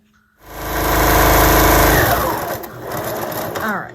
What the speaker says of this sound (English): I'm going to add a few clips and top stitch